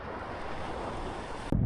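Sea waves wash around a passenger boat, a continuous rushing surge with wind buffeting the microphone and a sudden louder splash at the very end.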